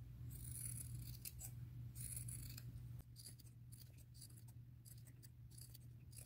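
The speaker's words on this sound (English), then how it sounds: "I will just keep cutting around and around until I have one long piece." Scissors snip steadily through denim cut from thrifted jeans, spiralling around to make one long strip. The rasping cuts come close and continuous, with a slight drop in level halfway through and no talking.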